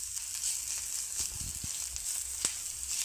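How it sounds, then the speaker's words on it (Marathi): Ingredients sautéing in oil in a pan, with lime juice added toward the end, give a steady close sizzle and a few soft stirring scrapes against the pan. "परतवून घेऊ थोडंसं."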